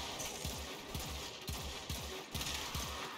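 Akvasto Prime secondary pistols firing in Warframe, a faint, steady series of evenly spaced shots, roughly two or three per second, over low background game noise.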